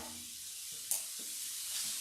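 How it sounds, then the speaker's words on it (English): Onions and mushrooms saute and brown in a pan, giving a soft, steady sizzle with a few light clinks and stirring scrapes, quiet and close with no talking. "our onions and our mushrooms a little bit of browning here because we want them all to get browned"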